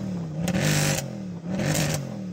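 A Mercedes C63 Black Series engine revs twice against its soft limiter in two short, loud, rising bursts, with no talk over it.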